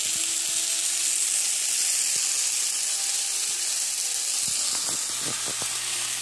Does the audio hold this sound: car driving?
no